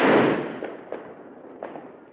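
A Diwali firecracker goes off nearby with a loud opening burst that decays into a hissing wash, followed by a few fainter pops and thuds.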